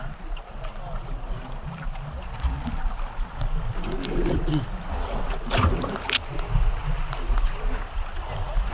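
A flatboat rocks on big ocean waves, with continuous sloshing water and wind noise and hull knocks rising and falling. Faint voices are heard now and then.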